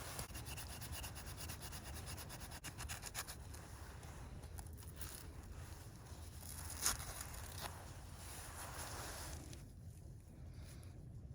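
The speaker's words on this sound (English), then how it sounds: "with the back of your knife, rub on that inside and make some of this really fine stuff" The back of a Mora knife rubs against the inside of wood, shaving off fine tinder for a campfire. It makes a soft, continuous, quiet scraping with faint repeated strokes and no talk.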